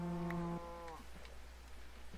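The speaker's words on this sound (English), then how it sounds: "I hear you, cow." A Minecraft cow gives a single sustained moo, close and clear, that cuts off after about a second over a low game background hum.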